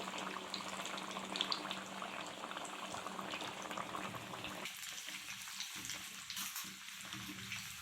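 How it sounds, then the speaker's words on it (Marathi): Sago vadas bubble and sizzle steadily in hot oil at close range, a dense crackling fry with no talking. "शाबू पाण्यात भिजत ठेवलेला असतो त्याच्यामुळे ओला असतो त्यामुळे असे तेलात असे बुडबुडे येतात"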